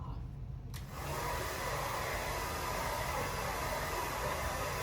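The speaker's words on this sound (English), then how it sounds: "The hairdryer whirred, and it whooshed, and it blew the house down." A hair dryer switches on after a second and blows steadily with a constant loud whooshing whir that continues to the end, during a children's stage skit.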